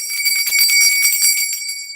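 A bright, ringing notification bell chime with several overlapping metallic tones and light jingling, loud and close, fading slightly toward the end.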